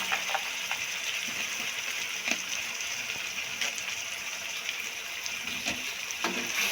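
Carrots, potatoes and peas frying in a pan, giving a steady hiss of sizzling with light scraping and clinks from the cookware.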